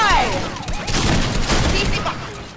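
Automatic gunfire sprays in a tournament video game shooter, a loud, dense burst of rapid shots that runs for a couple of seconds and drowns out some faint voices.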